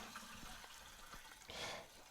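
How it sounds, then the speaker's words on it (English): Homemade ginger beer, with ginger steeped for weeks, pours through a filter from one vessel into another, a faint liquid trickle that swells into a brief gush near the end. "Pour out of one vessel into the other vessel,"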